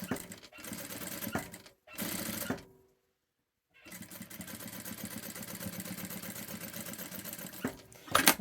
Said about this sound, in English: I'm going to sew right off the end here, and then I'm going to turn around and sew back down the other side